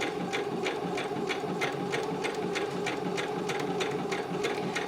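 A sewing machine stitching a small fabric pouch, running forward and then in reverse, with a fast steady needle clatter and motor hum, close and continuous with no talking.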